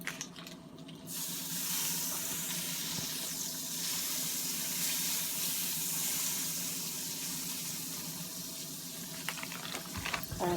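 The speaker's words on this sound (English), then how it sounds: "now we're about to put our eggs in there" Eggs sizzling in a hot pan, a loud steady crackling hiss that starts abruptly about a second in and continues throughout, with no talk.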